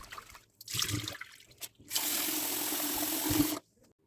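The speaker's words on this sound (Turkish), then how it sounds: "Pirinçler nişastasından arınana kadar bol su ile yıkayalım." Rice being washed in a bowl under plenty of running water: a short gush, a pause, then a long steady pour of water that cuts off abruptly, close and fairly loud.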